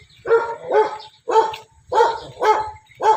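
A dog barks repeatedly in a steady series of about six loud, close woofs, each spaced roughly half a second apart, with no talking over them.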